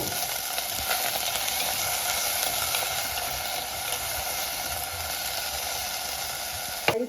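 Tomatoes roasting over heat for tomato chutney, giving a steady close sizzle and crackle that holds evenly throughout, with a brief clatter near the end.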